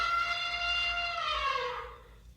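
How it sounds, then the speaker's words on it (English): An elephant trumpeting: a single loud, sustained brassy blast that slowly bends downward in pitch and fades out after about two seconds. "Oh my goodness, I think that's an elephant!"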